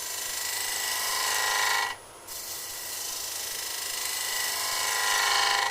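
A bowl gouge cutting wood on a spinning lathe gives a loud, continuous scraping hiss with a short dip where the tool briefly lifts off the wood, then carries on steadily, with no talking.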